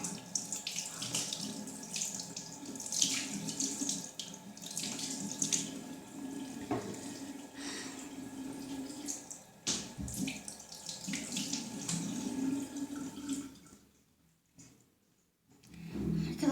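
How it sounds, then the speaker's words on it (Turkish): Tap water runs steadily into a sink while someone washes their hands and face. The close, continuous splashing carries on for most of the stretch, then briefly drops away near the end before starting again. "Şimdi ellerimi yıkayıp yüzümü de yıkayacağım arkadaşlar"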